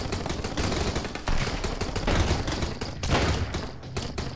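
Sustained machine gun fire in the survival game Sunkenland on the battleship Neptune, with dense rapid bursts rattling continuously and loudly for the whole stretch, heavy thuds mixed in.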